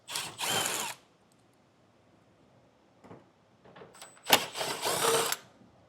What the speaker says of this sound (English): it's held up by some 10mm screws. Just work your way around, get them all removed.